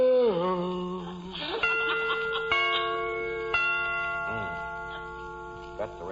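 Mechanical clock chimes struck in a comedy radio scene, several bright ringing tones that each sustain and overlap in a short melodic sequence, fairly loud and close, with a voice beginning over the start.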